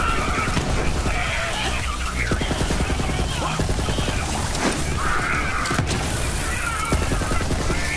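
SMG gunfire in the video game Borderlands 3, rapid bursts of shots with booms and impacts over dense game effects, while someone talks over the action.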